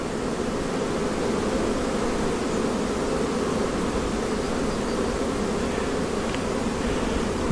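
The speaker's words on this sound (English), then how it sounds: "Crazy bees." A dense, steady buzz of many honey bees at a hive, loud and close, continuing without pause the whole time with no voices.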